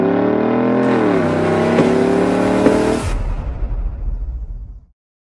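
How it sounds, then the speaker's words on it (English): A Chevrolet Silverado with an AWE quad-tip catback exhaust revs hard and loud up close, a deep sustained engine roar that climbs, holds, then drops off into a rumbling fade and cuts out. "This sounds incredible. By far the best I've ever heard on a Silverado."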